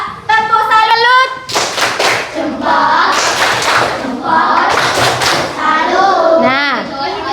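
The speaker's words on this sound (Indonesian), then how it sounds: "Kita beri tepuk salut." Schoolchildren in a classroom do a rhythmic group clapping chant, loud claps and thumps in patterned bursts mixed with the teacher and children chanting and speaking throughout.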